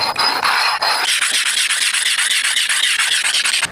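A rub brick grinds steadily across a rough concrete street skate ledge, a loud continuous rasping scrape with rhythmic strokes, close up and alone.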